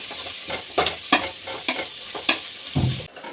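Onion, potato, beans and carrot fry in a pan, with a steady sizzle broken by repeated scraping strokes of a spatula in a quick irregular rhythm, close by, ending in a heavier clatter.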